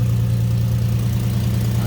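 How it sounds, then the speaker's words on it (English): A 2005 Mustang V6 with replaced catalytic converters and a clogged muffler idles smoothly, a low steady rumble close by with no speech. "Hear the engine."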